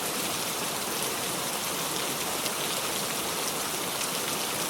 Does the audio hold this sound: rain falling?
yes